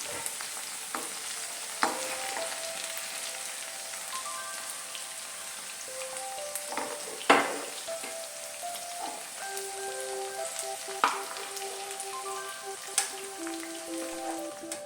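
Okra sautéing uncovered in coconut oil in a pan, a steady close sizzle and crackle throughout, with occasional scraping stir knocks from a spoon and no talking.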